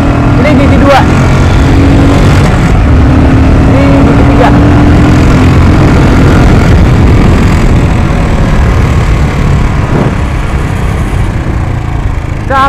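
Royal Enfield Continental GT cafe racer motorcycle engine pulling steadily in second gear while riding, a loud continuous low rumble with wind noise throughout, with no talk over it.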